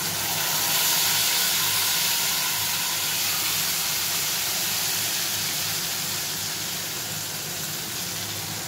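A ground paste of poppy seed, cashew and chilli goes into hot oil, setting off a loud, steady sizzling hiss that eases off slightly over several seconds, with no voices.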